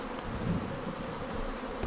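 Honeybees on a hive frame hum in a close, continuous buzz with no voices, a steady drone throughout.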